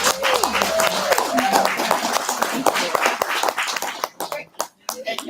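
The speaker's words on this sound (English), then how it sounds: "let's give another round of applause to our panelists." Workshop audience applauding panelists, loud crisp clapping from a crowd with voices talking over it, tapering into scattered final claps.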